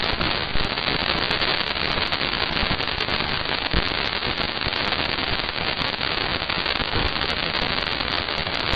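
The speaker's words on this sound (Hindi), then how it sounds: "प्रोब से हर घंटे हजारों माइक्रोस्कोपिक डस्ट पार्टिकल्स और कभी कभी तो बड़े बड़े उल्कापिंड भी टकरा जाते हैं" Dense, continuous crackling and popping from dust particles striking the Parker Solar Probe, a steady hiss-like patter of countless tiny impacts with no voices.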